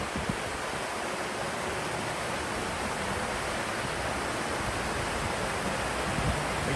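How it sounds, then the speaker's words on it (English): A waterfall at Disney on a cold morning gives a dense, even rush of falling water, loud and unbroken for the whole stretch, with no talk. "let you all enjoy the peaceful, calm waterfall sounds"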